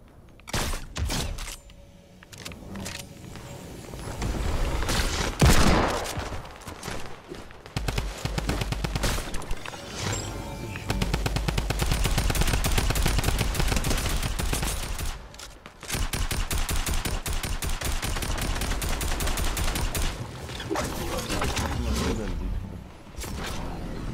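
Gunfire in Fortnite Battle Royale: long bursts of rapid automatic shots and scattered single cracks, loud and close, with pauses between bursts over about twenty seconds.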